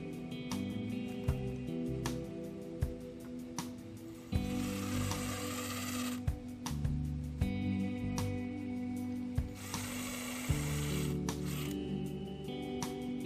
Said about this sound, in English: I clamp the boards in place and drill pilot holes with an 1/8 inch drill bit.